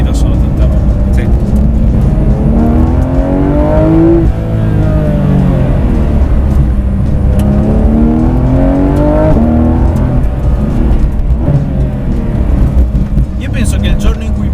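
A 2019 Porsche 991 GT3 RS with its naturally aspirated engine revs loudly up and down in long rising and falling sweeps, mostly on its own before a brief trailing edge near the end.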